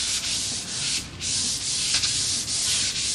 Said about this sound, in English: I need a new sanding paper. I think the 120, actually it's 150.